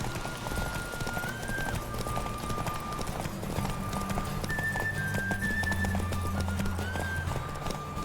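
A horse gallops in The Witcher video game with rapid rhythmic hoofbeats over continuous game music and ambient sound, steady and close for the whole stretch.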